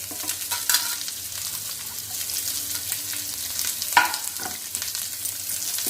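Onions, curry leaves and crushed garlic frying in a pan, a steady close sizzle with scattered stirring scrapes and one sharper clatter, no voices.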